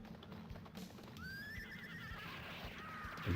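A single rising horse whinny from the Taito arcade game Rastan Saga, with clip-clopping hooves and game sound effects around it, ending in a louder thump.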